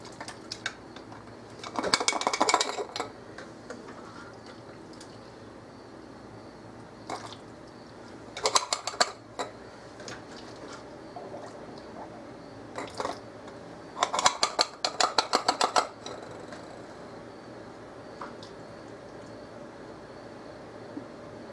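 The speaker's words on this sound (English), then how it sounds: "I'm just going to ladle this in my jars" Ladling leftover pork roast stew into glass canning jars gives intermittent clinks and wet scrapes in short clusters, with quiet stretches between scoops.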